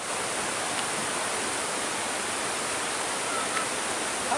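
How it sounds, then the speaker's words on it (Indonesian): A waterfall at Riam in Sanggau Ledo, West Kalimantan, roars as a constant, dense wash of falling water, steady and even throughout with no pauses. "hari ini kita akan membahas air terjun di Sanggau Ledo Riam"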